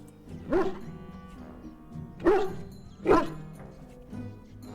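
A dog in the Dragon Age: Origins video game barks three times in spaced, fairly close bursts, followed by a softer fourth yelp, over a low steady game background with no talk.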